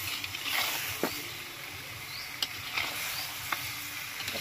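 Chicken and onion paste frying in oil for chicken do pyaza, a steady soft sizzle with occasional sharp pops and stirring scrapes, close and moderately loud, no talking.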